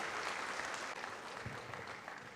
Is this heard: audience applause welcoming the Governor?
yes